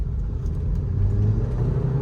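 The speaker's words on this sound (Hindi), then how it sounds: "इनफैक्ट एक बार यहाँ से लॉन्च भी करके देख लेते हैं गाड़ी।" A Volkswagen Virtus car launching from a standstill, its engine giving a steady, loud low rumble from inside the cabin for a couple of seconds with no talk over it.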